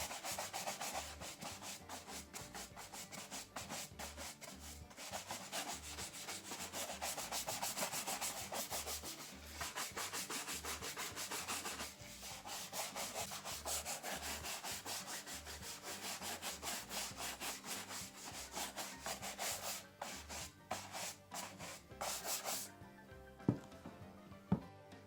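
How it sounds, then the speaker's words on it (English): Leather calf shoes being brushed after a cream polish has dried make a continuous rhythmic rubbing swish, steady and fairly close, with brief pauses between strokes before trailing off. "After the cream polish is dried, again another 15-20 minutes or so, I give them another brushing."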